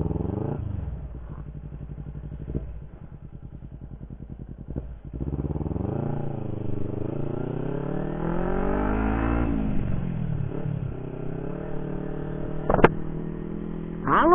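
A 2013 Kawasaki Ninja 250 FI ABS motorcycle engine, recorded close and loud, idling with a steady rhythmic putter before climbing through repeated rising and falling revs.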